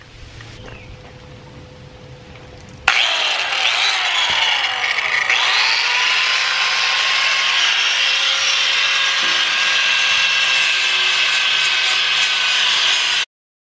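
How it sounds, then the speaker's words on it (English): A Milwaukee angle grinder with a flat disc roughs up metal parts on a CAT mini excavator, a loud, steady, close grinding whine that starts abruptly after a quiet hum and runs unbroken until it cuts off. "I just got my Milwaukee grinder out with a flat disc"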